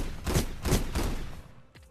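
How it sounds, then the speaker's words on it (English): Three booming shotgun blasts fire in the VR game Gun Raiders, loud and close, about a third of a second apart, each with a short rumbling tail, followed by a quieter mechanical clack at the end. "actually, use the shotgun"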